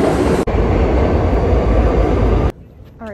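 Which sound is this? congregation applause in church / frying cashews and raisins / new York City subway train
new York City subway train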